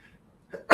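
A single sneeze bursts out loud and close at the very end, after a short, faint intake of breath.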